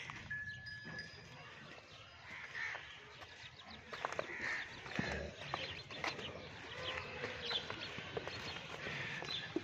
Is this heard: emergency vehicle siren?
no